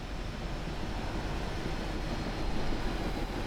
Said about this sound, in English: let's apply a bit more dynamic brake here